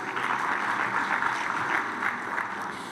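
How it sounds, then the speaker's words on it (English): Audience applause following a presentation at a science congress on commercial and rural development, a steady, soft wash of many hands clapping, moderately distant, with no voices over it. "So please give her a round of applause."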